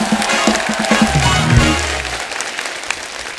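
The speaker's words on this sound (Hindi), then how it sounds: "जोरदार ताली हो जाए।" A studio audience on a comedy talk show breaks into loud, dense applause, with a bass-heavy musical sting underneath at first, then the clapping carries on alone and slowly thins.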